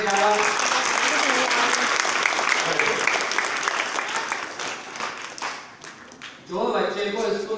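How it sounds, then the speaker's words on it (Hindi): A roomful of children in an Urdu school classroom claps together in a brisk, sustained burst of applause that fades briefly, then picks up again with voices. "एक बार खुद के तालियां बजाइए"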